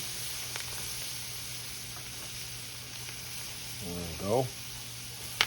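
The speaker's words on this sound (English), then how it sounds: "We're going to make a little roux here." Flour cooks in hot oil for a roux as a steady, soft hiss, with a stirring scrape near the end and a short spoken phrase over it.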